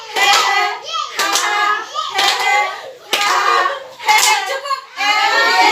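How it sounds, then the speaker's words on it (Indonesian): A group of women clap their hands in rhythmic bursts during a therapy exercise, each burst separated by short pauses, with voices mixed in among the claps. "Tepuk tangan buat ibu-ibu."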